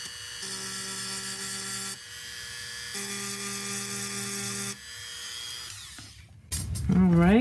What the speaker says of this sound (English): take my Dremel bit again, and rough up where the bale will be glued